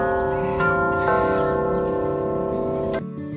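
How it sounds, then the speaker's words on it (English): An old piano that plays bells rings out sustained, overlapping bell tones in a steady chiming texture, with a few sharper strikes, fairly faint and with no voices. "They actually have an old piano that plays bells."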